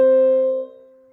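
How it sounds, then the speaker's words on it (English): An octave played on an instrument: two notes sounding together, struck once and left to ring with a clean, slowly decaying tone. "the interval that we call an octave or an eighth sounds like this"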